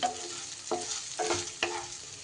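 A spoon stirs sugar into raw mango rice in a pan, making three or four soft scraping strokes over a faint sizzle, close and quiet.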